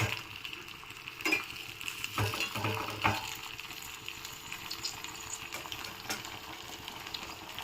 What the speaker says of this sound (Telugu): టమాటాలు పచ్చిమిర్చి బాగా వేగాలండి.